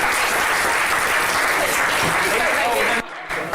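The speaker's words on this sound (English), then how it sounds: "Round of applause for Ben Elton" A studio audience at a television show applauds special guest Ben Elton with sustained, loud clapping and a voice faintly underneath, briefly dipping near the end before resuming.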